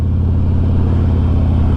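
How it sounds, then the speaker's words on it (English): A logging truck passes on a road in New Zealand's Far North as a loud, steady low engine rumble and road roar, heard close up and without any talk. "Good old logging truck doing his thing."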